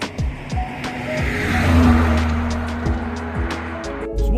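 A classic Triumph Dolomite on the move, its engine holding a steady low drone with gearshift-like dips and rumbles, passing close and fairly loud with no voices over it.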